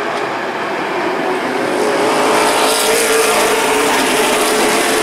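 Pro stock race cars roar around the New London Waterford Speedbowl oval in a loud, continuous blare of engines that swells as a pack passes close by.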